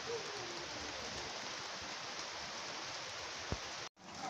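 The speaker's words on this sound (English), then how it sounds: "You can see all the rain pouring in there." Heavy rain pours steadily through a thunderstorm, a dense, even wash of drumming water that holds constant, then cuts off briefly near the end.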